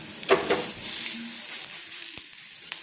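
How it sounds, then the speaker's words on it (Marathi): Potato tikki sizzles steadily in an oiled pan, a close, continuous frying hiss with a few brief spatters and clicks. "मी काय करते आता एक टिक्की काढते आणि ती अशी भाजायला ठेवते"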